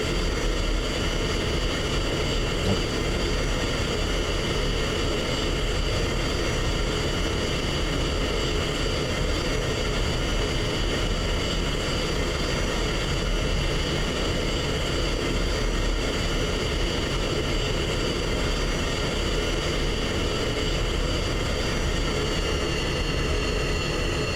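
An F-16 fighter jet taxiing produces a loud, steady, unbroken engine roar and whine that holds constant throughout, with no voices.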